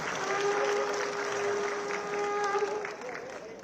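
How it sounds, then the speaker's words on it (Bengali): Applause from the audience at a film and television industry certificate ceremony in Tripura, a moderate crowd clapping with a steady musical tone sounding underneath, fading slightly toward the end. "সবার কাছ থেকে এটি জোরে করতালি আশা করব।"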